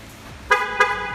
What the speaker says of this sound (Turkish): kapıları kilitlediğimizde korna geri bildirim